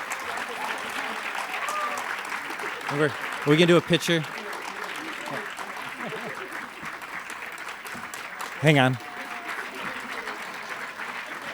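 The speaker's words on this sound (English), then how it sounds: "I want everybody to give another round of applause to the committee who's done so much work this year to make the event happen." An audience gives an organizing committee a round of applause as members come up on stage, sustained clapping filling the room while someone speaks briefly twice over it.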